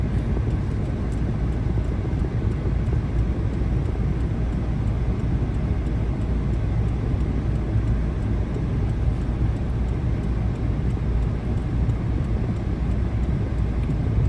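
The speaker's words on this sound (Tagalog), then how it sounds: "Traffic." Road traffic in Okinawa at rush hour, heard from inside a moving car as a steady, broadband rumble of engine and tire noise, with no voices.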